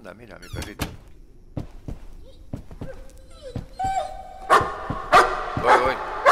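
A small dog barking in the horror video game Layers of Fear, with several short sharp barks among thuds, creaks and game sounds, louder and denser toward the end.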